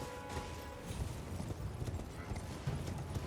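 Horse hooves clip-clop in a fantasy role-playing game, a quiet irregular patter set under a low background wash of game ambience.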